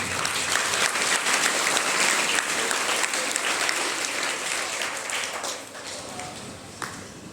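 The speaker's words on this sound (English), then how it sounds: "So a big round of applause for all of them." A big round of applause fills the hall at a 46th foundation day celebration, dense steady clapping from a crowd that gradually thins toward the end.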